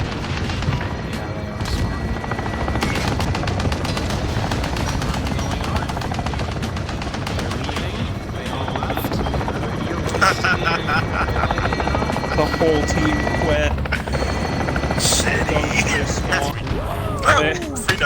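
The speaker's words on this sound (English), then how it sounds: "Right when there's an attack chopper" An attack helicopter in a video game drones steadily with rotor thump while bursts of gunfire and booms break in, loud and continuous, with a person talking over the game sounds.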